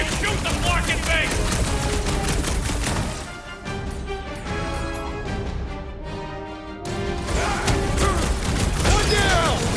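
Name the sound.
gunfire in the video game Marvel's Guardians of the Galaxy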